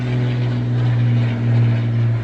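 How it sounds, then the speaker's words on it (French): A small propeller airplane passes overhead above an outdoor event, its steady low engine drone holding throughout with a slight swell in loudness, no talk over it. "T'entends l'avion là-haut là?"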